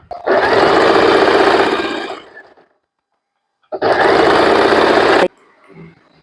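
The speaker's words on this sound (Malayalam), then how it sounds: "ഇവിടെ ഈ ഒരു സ്റ്റിച്ച് ഞാൻ ഈ ഒരു സ്ട്രൈറ്റ് സ്റ്റിച്ച് ഉപയോഗിച്ചിട്ടാണ് ചെയ്തിട്ടുള്ളത്." A Fashion Maker sewing machine sews cloth with a straight stitch: a loud, steady mechanical whirr runs for about two seconds, stops, then runs again for about a second and a half, close up with no talking.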